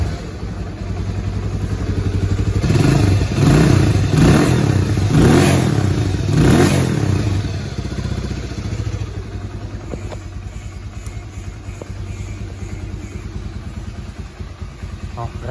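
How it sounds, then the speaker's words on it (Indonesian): A motorcycle engine, either a first-generation Honda 150R or a Suzuki Satria FU 150, starts and runs loudly up close with a few revs, then settles into a steady idle. Talk overlaps the running engine. "Kita lihat nyalain mesinnya deh dulu deh, kita dengerin suara mesinnya."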